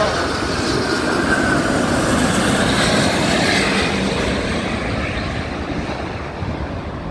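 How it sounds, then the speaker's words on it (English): A big passenger jet lands at an airport, a loud, broad roar of engines and rushing air held steady and then slowly fading as it passes. "There goes another awesome landing."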